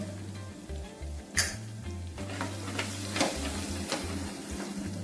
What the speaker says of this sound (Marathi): परतून घेऊया एक अर्धा चमचा हळदी पावडर